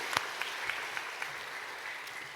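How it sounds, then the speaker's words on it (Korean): A church congregation gives a soft round of applause, a few distinct claps at first, then a faint, diffuse patter that stays fairly quiet and distant. "우리 박수 한번 쳐주십시오."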